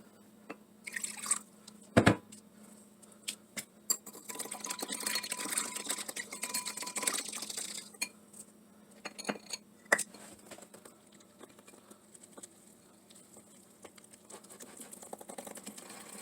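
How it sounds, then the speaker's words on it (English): Flour, warm water and instant yeast are mixed in a bowl for Cuban bread dough, giving a run of faint wet stirring and patting sounds with a few sharper clinks, close and quiet with pauses between. "a half cup of flour, half cup of warm water, and a half teaspoon of instant yeast. So we're going to be mixing that together right now."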